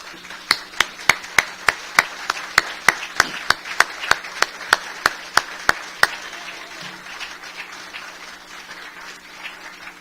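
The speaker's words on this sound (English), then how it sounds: "With the garden grant recipients, please stand for a round of applause" Steady, evenly spaced claps ring out at a spring forum for Sullivan Renaissance garden grant recipients, about twenty crisp hits in a regular rhythm for six seconds before fading to quiet room tone.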